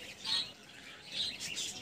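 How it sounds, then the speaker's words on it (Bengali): Small birds chirp and call in short, bright bursts around an outdoor village garden with a blossoming mango tree where pigeons roam, faint and somewhat distant, with no talking. "আর পাখি ডাকা ডাকি করছে।"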